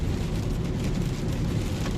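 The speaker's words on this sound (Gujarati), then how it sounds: "અચાનક જ તેજ બારિશ ચાલુ થઈ ગઈ છે" Sudden heavy rain in Italy drumming and hissing on a surface, continuous and close, with a low rumble beneath and no voices.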